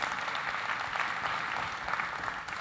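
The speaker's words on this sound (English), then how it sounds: "Please, round of applause." A conference audience at Identity Live 2017 in Austin claps for a volunteer: dense, steady applause from many hands fills the room throughout.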